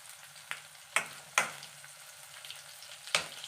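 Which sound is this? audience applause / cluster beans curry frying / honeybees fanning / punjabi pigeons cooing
cluster beans curry frying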